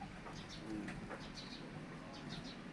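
Pigeons coo faintly in a quiet indoor space, a soft low murmur with a few light chirps.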